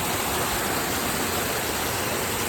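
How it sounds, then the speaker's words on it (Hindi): Small waterfall at Lachhiwala Nature Park in Dehradun, a loud, steady broadband rush of falling water that stays constant throughout, heard close with no voices. "वाह, प्यारा सा वाटरफॉल छोटा सा।"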